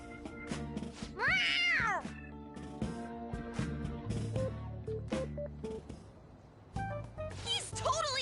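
A cat meows in the video game Persona 5 Royal, giving one drawn-out, wavering meow amid game dialogue and music, with voices talking before and after it.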